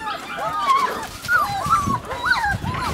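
Dogs at a kennel with puppies whimper and yip in high, sliding cries that repeat close by, mixed with occasional short barks and some faint voices in the background.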